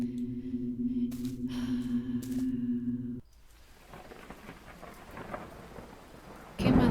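Heavy rain falls during a thunderstorm at sea around a damaged boat, with a low rumbling roar of thunder up front that drops away into steady hissing rain, then a loud burst at the end.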